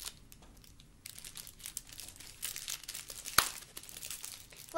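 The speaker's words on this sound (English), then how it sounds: "That one you gotta unwrap if they want." A Lush bath bomb being unwrapped from its wrapper, with quiet, close crinkling and rustling that comes in irregular bursts, plus one sharper crackle near the end.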